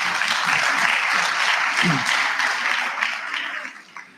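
An audience at a national SRC induction ceremony gives a round of applause, a dense, steady wash of clapping that slowly thins and fades toward the end, with a voice briefly audible beneath it.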